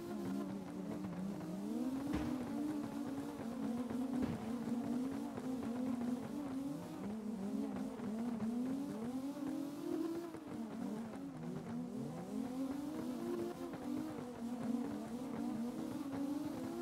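Engine in a console racing game revving and wavering through a drift, with repeated pitch sweeps as gears change and faint tyre squeal, a steady close-up drone throughout.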